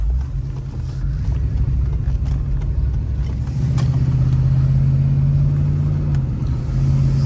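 A 1995 Cadillac DeVille's engine hums steadily and rises in pitch as the car speeds up, with road rumble and wind noise throughout, heard from inside.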